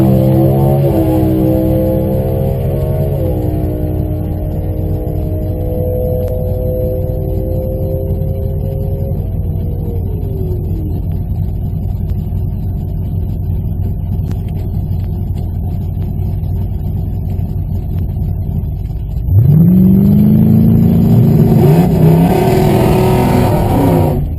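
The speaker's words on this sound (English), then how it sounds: "We're gonna do our burnout here in just a minute." A drag racing car idles loudly with steady engine rumble and shifting revs, then near the end it surges into a high-revving roar as the burnout begins, close and continuous.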